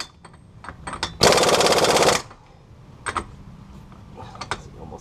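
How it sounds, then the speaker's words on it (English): An impact gun fastens bolts during clutch installation on a Mitsubishi 3000GT, one loud, rapid hammering burst lasting about a second, surrounded by close metallic clicks and tool handling. "Impact gun."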